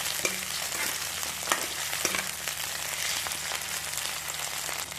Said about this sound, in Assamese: আলুখিনি ভালদৰে সিজালৈকে ভাজি ল'ম